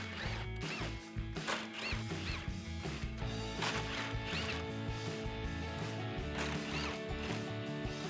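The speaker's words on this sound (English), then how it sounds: "We need to remove those with a 10mm socket." A 10mm socket on a ratchet backing out the top grille bolts on a 2016-2018 Chevrolet Silverado 1500, a busy run of close, repeated ratcheting clicks and metallic rattles throughout.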